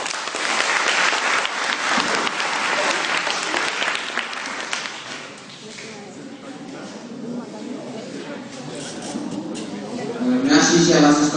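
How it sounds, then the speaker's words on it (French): Audience applause at a leadership speech competition, dense clapping from a crowd that swells early then thins and fades, with a voice beginning to speak over it near the end. "Merci, chère assistance, pour ces applaudissements."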